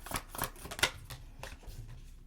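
Oracle cards being shuffled by hand in a quiet room, a few soft papery riffles and flicks in short bursts, close and faint with no talking.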